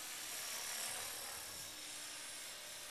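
An EXI 450 RC helicopter flies at a low head speed of about 2150 RPM outdoors in a light breeze, giving a steady, smooth whirring buzz at moderate distance, fairly quiet and without talk.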